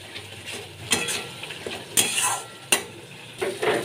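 Spices sautéed together in a pan for a tilapia curry with mustard and garlic paste, a quiet sizzle broken by several sharp scrapes and clinks of a metal spoon against the pan, close and without talk.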